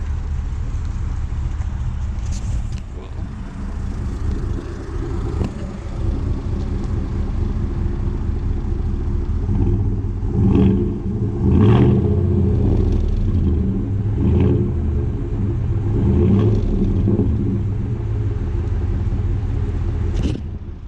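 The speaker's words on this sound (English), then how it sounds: "Very smooth startup. Does have the aftermarket exhaust on it. It is not super loud." A red Chevy Silverado pickup with an aftermarket exhaust idles with a deep, steady low rumble, then revs a few times in short bursts, moderately loud and close, with no talking.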